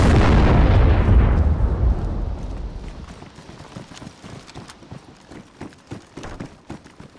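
A remote-detonated explosive goes off during a DayZ base raid, a loud, close blast with a long rumbling decay, then fading into scattered crackling debris and light rhythmic impacts.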